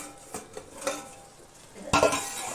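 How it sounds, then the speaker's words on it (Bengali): A lid comes off a cooking pot of okra and potato curry with a few metallic clanks and a brief rattle, followed by a louder clatter near the end, close by and with no voices. "ফিরে এসে দেখাচ্ছি ঢাকাটা খুলে কেমন হয়েছে রান্নাটা"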